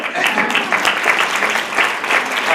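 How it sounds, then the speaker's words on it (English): Lively audience applause at a vegan outreach event, a close, loud and continuous burst of many people clapping with no voices over it. "you can clap for her."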